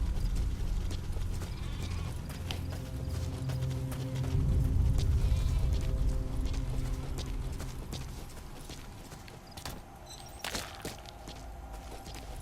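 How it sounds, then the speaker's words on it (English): Karakul sheep bleating in the video game Metal Gear Solid V, several nasal bleats over a busy bed of hoof clip-clops and animal movement, with a louder rumbling stretch midway and scattered sharp clicks later. "That's a Caracal sheep."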